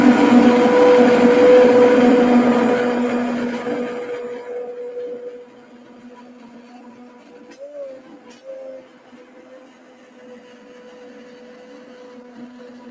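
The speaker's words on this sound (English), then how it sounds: "Okay, here we go, immersion blend." Immersion blender whirring through a pot of sweet potato white bean bisque, a loud steady motor hum for about four seconds that then winds down to a faint low drone with brief bumps.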